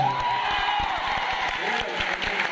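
A seminar audience applauds in honour of Paralympic athletes, the clapping fairly steady and dense, with a deep rhythmic thumping beneath.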